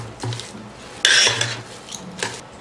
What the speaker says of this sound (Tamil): நல்லா கலக்கி விட்டுடுங்க.